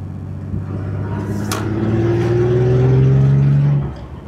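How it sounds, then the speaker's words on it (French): A Porsche 911 Targa Carrera 3.0 engine revs up steadily to around 3000 rpm, its loud rising drone climbing in pitch for about three seconds before dropping off sharply. "3000 tours pour bien chauffer le moteur."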